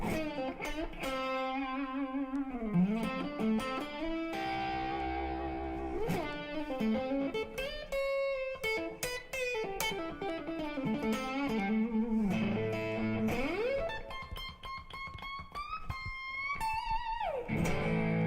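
An electric guitar plays a melodic, sustained line through a Blackstar amplifier, notes ringing out with reverb and bending pitches; no voices.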